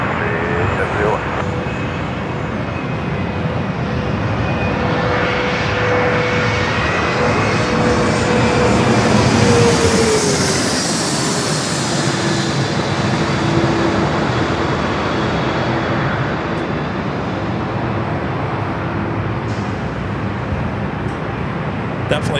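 A fixed-wing aircraft rolls out on landing on runway 27 at San Diego airport, a broad, steady engine roar that swells to a peak midway and then eases, with faint radio chatter underneath.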